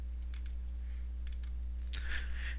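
Typing on a computer keyboard: a few quiet, scattered clusters of key clicks, close and faint, over a steady low electrical hum.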